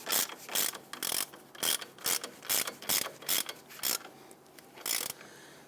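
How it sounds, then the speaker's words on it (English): A ratchet wrench tightens a castle nut onto a tie rod stud on a 2000–2006 Toyota Tundra, a close series of about a dozen sharp clicking bursts in quick rhythmic strokes with brief pauses between. "Install that castle nut, thread that down. Go ahead and tighten this down."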